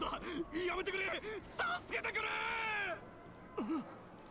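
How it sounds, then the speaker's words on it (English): Screams from characters in the visual novel DRAMAtical Murder, a series of wavering strained cries and groans with pitch swoops, loud and close, in short bursts separated by brief pauses. "Screams behind me."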